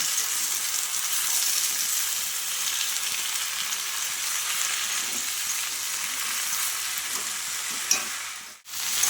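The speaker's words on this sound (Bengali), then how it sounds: "পুঁই শাকগুলো দিয়ে সবজিগুলোর সাথে ভালো করে একটু কষিয়ে নেব" Malabar spinach sautéed with vegetables in a hot pan makes a steady, fairly loud sizzle, broken by occasional stirring scrapes. Near the end a sharp scrape is followed by a brief dip before the sizzle returns.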